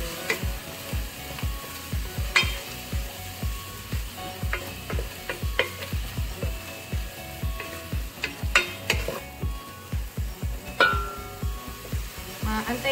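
Pork pieces stirred and frying in a pan for squash in coconut cream, with steady sizzling under repeated scraping and clinking of a utensil against the pan, close and continuous.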